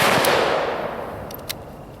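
An AK-47 rifle firing after being dropped in sand: one loud close shot whose boom decays over a second or so, followed by a few quick sharp metallic clicks and a small thud.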